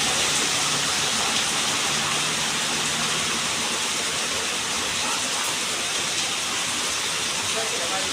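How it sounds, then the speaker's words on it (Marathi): Heavy rainwater runs along a road in a dense, continuous roar of rushing, hissing water that stays loud and close throughout; a voice is faintly present. "पाणी तर भरपूर वाहतंय रस्त्यावरनं"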